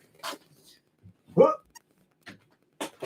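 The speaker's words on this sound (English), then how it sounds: "What are you barking at, dude?" A small dog barks indoors in a few short, sharp yelps spread across a quiet room, with a faint voice and light handling noises between the barks.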